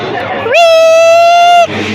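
A single sustained high-pitched scream, loud and close, rising sharply then holding a steady strained tone for about a second before cutting off, set against background crowd chatter at a metal event.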